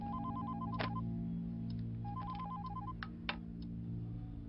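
A telephone rings in two bursts of rapid electronic trilling, spaced about two seconds apart, over a steady low background hum in a Bollywood film scene. A few faint clicks are also audible.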